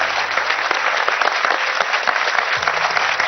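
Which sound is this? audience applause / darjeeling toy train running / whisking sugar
audience applause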